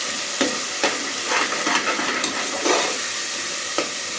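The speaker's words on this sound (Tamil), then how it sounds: "தக்காளியெல்லாம் பச்சையாக போட்டு போட்டுருக்கிற மாதிரி நினைக்காதீங்க நல்லா வதங்கிடும்" Tomatoes sauté in a pan with a constant close sizzle broken by repeated sharp spatula stirs and scrapes at an irregular rhythm, no speech.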